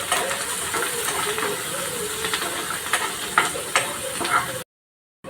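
Finely chopped onion, curry leaves and crushed garlic sizzle in a hot pan for bhendichi bhaji, a steady frying hiss with occasional sharp crackles and pops, close and continuous before cutting to silence.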